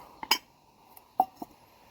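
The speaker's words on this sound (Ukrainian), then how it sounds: "Зараз дістану свій посуд, якому буду готувати." A few light metallic clinks and taps as camping pots and lids are moved about, with short pauses between them.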